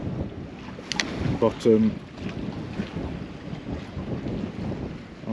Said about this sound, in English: Stepping out and into the wind.